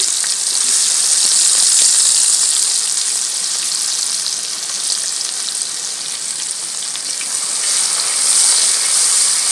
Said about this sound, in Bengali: এই মাছের তেলের মধ্যেই দিচ্ছি পেঁয়াজ